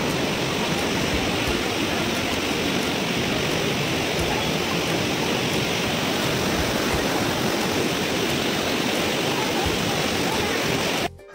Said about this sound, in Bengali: এই যে ঝর্ণার জল পড়ছে এখান থেকে